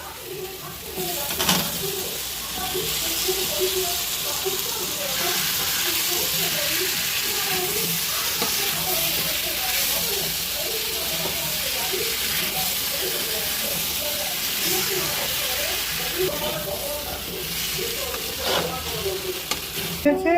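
Potatoes with salt and sugar frying in a pan as filling for Mughlai paratha, a steady close sizzle with scraping stirs throughout, no talk heard.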